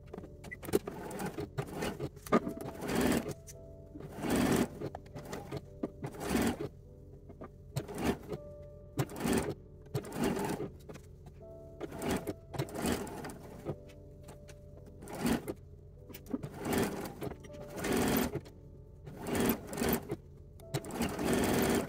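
A sewing machine bastes a 3/8 inch seam on a lined-cup teddy garment with elastics, running in short whirring bursts separated by brief pauses, close and clear with no talk.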